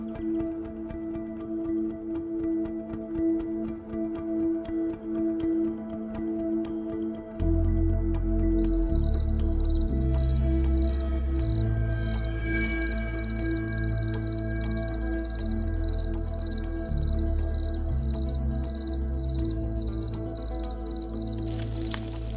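Crickets in a New Caledonian forest in the south of Grande Terre, a steady high insect chirping that runs continuously over dense, layered nighttime-style ambience with low rumbling background throughout.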